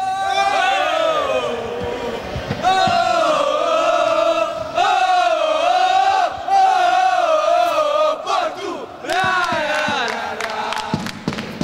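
Football supporters of Ecoelpidiense chant together in the stands, a loud, sustained crowd shout in long sung phrases with brief breaks, voices rising and falling almost continuously throughout.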